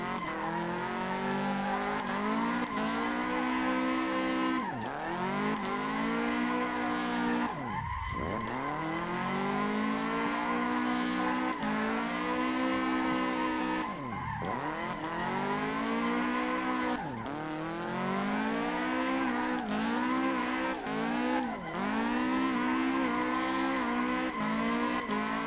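Tires squeal continuously as a car slides through the Assetto Corsa racing sim, with rising and falling engine tones and repeated pitch swoops over about twenty-five seconds, loud and close, with no voices.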